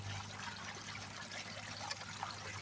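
Water trickles and pours steadily through a gold sluice box on a mountain dig site, a soft continuous running flow with a low hum beneath and no talk.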